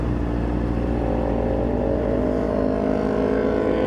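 Motorcycles, a Yamaha R7 and a Kawasaki Ninja 400, pass on a busy road at rush hour, their engines a steady loud drone with revving swells, heard from inside a car amid traffic noise.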